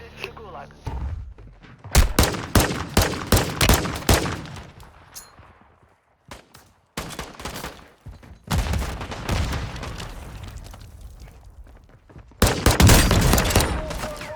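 Gunfire from a teammate in the video game Warzone comes in loud, sharp volleys separated by brief lulls, with one near-silent gap midway and a heavy final burst.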